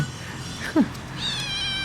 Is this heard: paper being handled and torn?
no